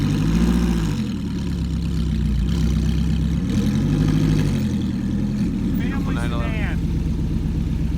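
A Ferrari at a Cars & Coffee meet runs with a loud, deep, steady engine rumble that swells briefly a couple of times, close by, with someone talking over it.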